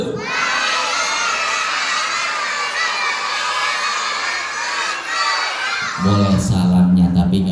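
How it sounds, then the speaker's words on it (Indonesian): A crowd of children shout a greeting in unison, loud and sustained for several seconds, followed by excited overlapping voices and cheering. "Boleh salamnya tapi nggak usah pakai teriak."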